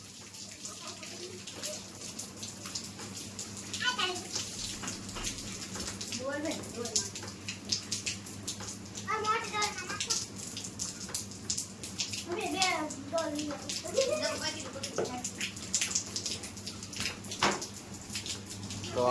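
Water pours from a hose onto a child's head outdoors in the rain, a steady splashing wash running under the excited voices of children and an adult talking throughout.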